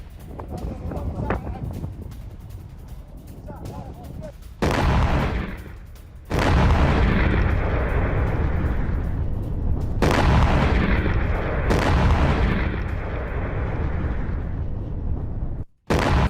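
Heavy, rumbling blasts from missile and drone strikes on a Gulf industrial zone roll through news footage, dense and sustained for long stretches, broken by abrupt cuts and a brief silence near the end.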